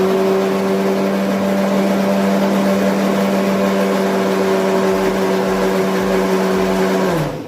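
Mixer grinder blending passion fruit juice with sugar, lid closed: a loud, steady motor whine with a constant hum runs for about seven seconds alone, then cuts off abruptly near the end.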